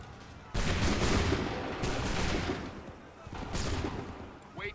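Several volleys of musket-style gunfire from the Assassin's Creed video game crash out in dense, booming bursts, three distinct waves in quick succession, loud and close with a faint voice briefly underneath.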